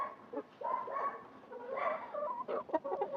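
Hens cluck and murmur in short bursts nearby at evening feeding, a busy overlapping chatter with a few sharper calls, fairly quiet overall.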